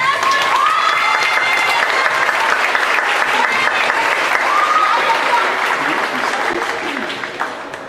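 At a school band and choir concert, the audience claps in a loud, full round of applause with some cheering and voices mixed in, tapering off at the end.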